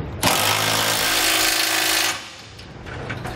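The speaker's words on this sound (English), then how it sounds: "we're going to work through and start tightening them down. For the carriage bolts, we need a 19mm socket." Power tool with a 19mm socket tightening carriage bolts while mounting a Curt trailer hitch receiver on a 2008 Ford F-150, a loud close two-second rattling whir that cuts off abruptly into quieter background.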